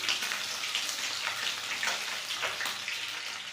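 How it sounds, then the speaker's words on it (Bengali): Pieces of bhetki fish fry in hot oil with a steady, close sizzle and crackle that runs unbroken throughout, with no voices. "আরও যা আছে সেগুলো ভেজে নেব।"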